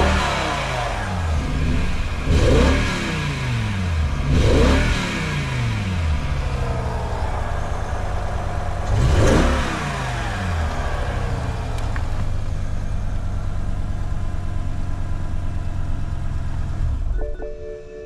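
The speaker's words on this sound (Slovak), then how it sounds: "má tam nejaké tie zvuky, neviem či to je kvôli tomu, že vynecháva jeden valec" A BMW M5 engine misfiring on one cylinder idles and revs unevenly, with a rough, stumbling rhythm and a few louder revving surges before it cuts off near the end.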